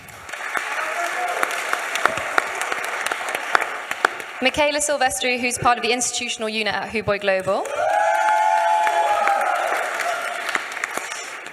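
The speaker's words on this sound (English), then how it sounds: "You guys can clap for each person if you like. I appreciate the whoops." An audience at a crypto exchange panel claps and whoops. Scattered claps sit under a host introducing a panelist, then a burst of cheering and whooping follows, and sustained applause closes the stretch.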